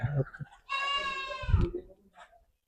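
A goat on a goat farm gives one long, wavering bleat, loud and close, with a little low background noise before and after.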